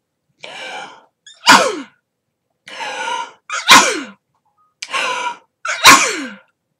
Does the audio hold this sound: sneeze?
yes